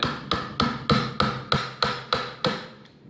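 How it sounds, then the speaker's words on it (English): Mallet blows on a chisel cut a recess into a 2x4 workbench leg: nine sharp, evenly spaced strikes, each ringing briefly before the next, close and loud with no talking. "what we're gonna do is we're gonna chisel down a little bit"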